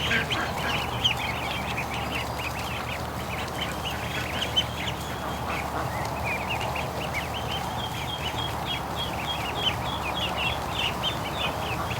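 Ducks and geese call inside a barn in a steady, dense chorus of overlapping quacks, honks and squawks that run without a break, fairly close and loud, with no one talking.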